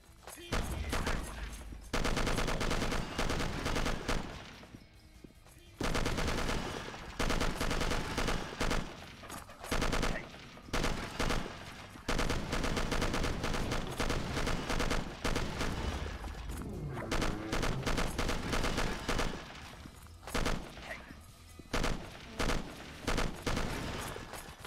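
Gunfire in the video game Will Rock rattles in long, dense, loud volleys of rapid shots and booms, broken by a few short pauses.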